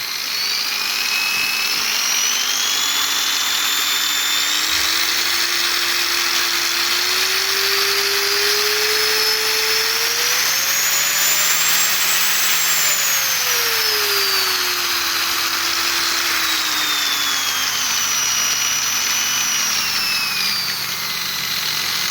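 A Yato YT-82098 angle grinder runs unloaded at speed setting 1, a loud, steady motor whine that slowly rises in pitch, peaks midway and then sinks back down, running close and continuously with no talking.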